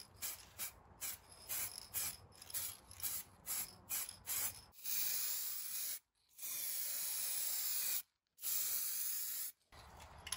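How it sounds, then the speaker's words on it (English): Hissing bursts of a spray gun applying base coat to a Ford Fiesta ST150, a run of short rapid sprays followed by longer sustained passes, close and fairly loud. "And then we can spray our first coat of base coat."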